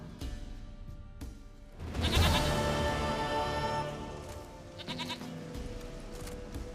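A goat bleats in The Witcher 3, a long wavering cry rising over ambient game sound, with a few shorter sounds before and after; no one talks.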